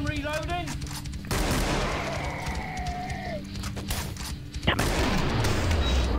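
Gunfire from weapons in the video game Killing Floor, dense and loud through the whole stretch with a sharp blast near the end, mixed with game effects and voices talking over it.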